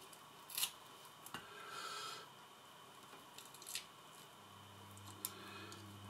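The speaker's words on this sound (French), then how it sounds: "Je vais essayer de couper sans trop tirer sur les fils." Scissors or a small cutter snips inside an Audio Technica 4050 microphone during a repair, giving several sharp close clicks and brief scraping rubs among quiet handling noises.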